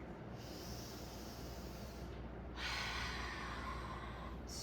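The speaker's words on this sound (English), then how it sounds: "3 deep breaths here." Slow, deep breaths during a prenatal yoga class, a quiet airy inhale followed by a stronger exhale, faint and close with no talking.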